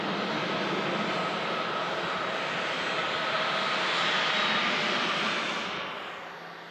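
A Lauda airliner climbing away after takeoff with its landing gear retracting into the fuselage, a loud steady jet roar that swells slightly then fades away at the end, with no talk.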